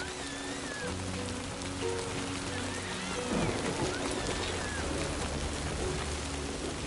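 Steady rain falls across a stretch of the video game Death Stranding 2, a constant hiss of drops on surfaces layered over sustained low musical tones, with no talking.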